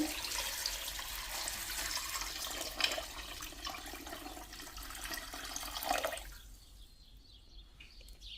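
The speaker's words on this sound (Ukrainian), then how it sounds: "заливаю холодну воду" Cold water poured into a pot already holding turnip, potato and carrot, a steady splashing gush filling the pot for about six seconds before stopping abruptly, leaving quiet room noise.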